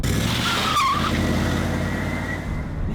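A 1992 Rolls-Royce Silver Spirit II with a 6.75-litre V8 accelerates, a loud, steady engine and road roar holding for a few seconds with a brief higher whine partway through.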